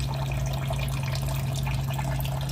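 Waste water from a countertop reverse osmosis system pours steadily into a bowl, a continuous, loud splashing trickle with a constant low hum underneath and no speech.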